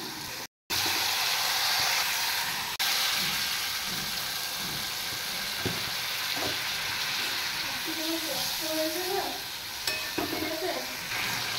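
Water poured onto turmeric, chilli powder and cumin powder frying in a pan for a chhana curry sets off a steady, broad sizzling hiss that runs throughout, with occasional scrapes and a faint voice near the end.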